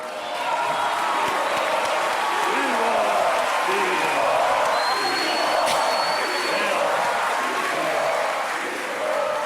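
Studio audience on a Turkish comedy talk show cheers and chants the name İbo in rhythmic unison, a loud, sustained crowd roar with whistles running throughout.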